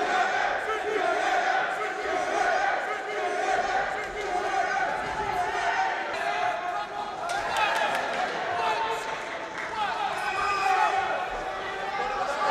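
A kickboxing fight night crowd roars and cheers steadily throughout, loud and dense, with shouting and scattered voices rising and falling over a constant din.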